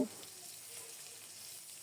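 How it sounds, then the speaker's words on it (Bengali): Koi fish frying in a hot pan of oil sizzles with a steady, close hiss throughout, with no voices. "তো এক পিঠ মোটামুটি ভাজা হয়ে গিয়েছে।"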